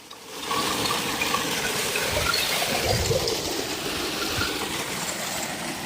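A large stream of water gushes steadily from an open gate valve, a loud continuous rushing roar that starts abruptly and keeps going.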